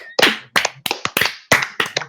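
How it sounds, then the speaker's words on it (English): Hands clap close by in about six sharp, uneven bursts, each a quick cluster of two or three smacks separated by short silences. "I'm clapping."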